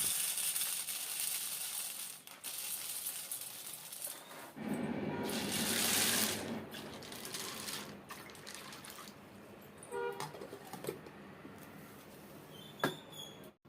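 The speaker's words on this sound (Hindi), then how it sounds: "अब मुझे भिगोने हैं छोले" Water poured into a bowl to soak chickpeas in a home kitchen: a steady gush of running water that swells and then tapers into splashes and drips, with scattered clinks toward the end.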